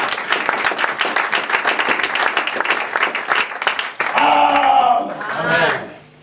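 A church congregation bursts into sustained, dense clapping and cheering during a French-language sermon, loud and close, before the applause fades into a few voices calling out.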